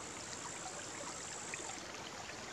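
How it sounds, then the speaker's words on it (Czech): A small forest brook babbles steadily nearby, a continuous soft wash of trickling water with no other sounds over it on a quiet hot summer day. "Jenom potůček zurčí."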